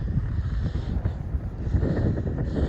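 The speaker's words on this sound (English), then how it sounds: "oh, it's windy" Steady wind buffets the microphone on a nature trail beside a large body of water, a loud continuous low rumble with gusty swells and no speech.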